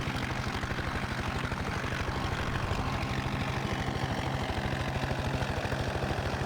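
A helicopter engine in the video game Farming Simulator 15 drones steadily with a rapid, even rotor thump, continuous and close, with no voices.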